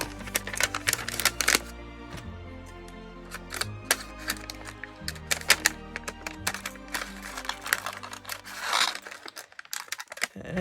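Scissors snip tracing paper in a series of short, crisp cuts with crinkling paper handling between them, close and fairly quiet.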